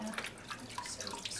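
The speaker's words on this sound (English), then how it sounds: "So I'll wash his hair now, so you can just either use a flannel" Water cupped by hand or flannel splashes and trickles over a baby's hair at bath time, in soft, quiet pours and drips heard up close.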